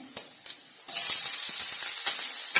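Cumin and mustard seeds hit hot oil, with a couple of soft taps first, then a sudden loud, crackling sizzle that keeps popping and spitting.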